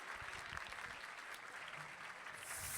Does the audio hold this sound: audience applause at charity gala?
yes